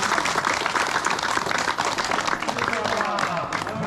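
A gathering claps loudly after completing a difficult fast, with dense, rapid applause from many hands and voices mixed in throughout.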